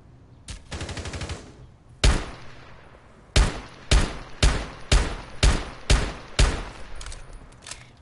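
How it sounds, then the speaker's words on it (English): A pistol fires in a tactical shooter game: a short rapid burst first, then a single crack, and after a pause a steady string of seven loud evenly spaced shots. "Pre-firing with a pistol."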